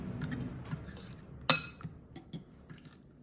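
Fried mushrooms being tossed in a bowl give a run of light clinks and scrapes, with one sharper clatter partway through, close and fairly quiet.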